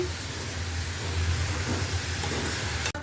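Bottle gourd dropped into hot oil with fried spices and a spoonful of sugar gives a steady, close hiss over a low hum, broken by a brief knock near the end.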